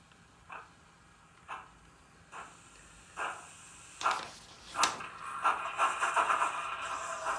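Wheel slip effect from a model train's sound decoder: evenly spaced soft chuffs that give way to a rapid, fluttering burst of chuffs near the end, moderately quiet and with no talking.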